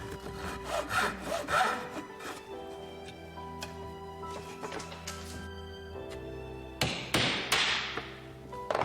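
A hand saw cuts diagonally across wood for traditional Korean furniture, making a quiet, close rasping of strokes with a few taps and knocks, and a louder burst of sawing toward the end.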